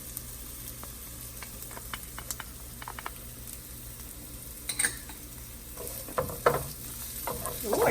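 Garlic sizzling in a hot pan while verdolagas are made, a steady close hiss of frying with scattered light crackles, then louder scraping and stirring clatter toward the end.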